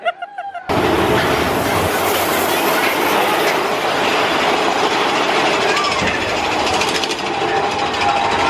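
A Big Thunder Mountain roller coaster train at Magic Kingdom rumbles and clatters along its track, a loud, continuous roar with rattling wheels and rushing wind, and voices surface now and then.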